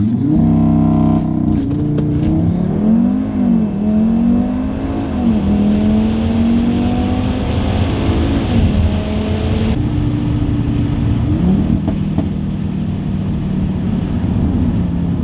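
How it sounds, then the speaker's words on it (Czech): Loud five-cylinder exhaust of a tuned Audi RS3 with factory exhaust roaring as the car launches hard, the engine note climbing through rising revs with a shift partway through, heard close up. "Ten zvuk je fakt neskutečný, já nechápu, jak tohle může být tovární výfuk"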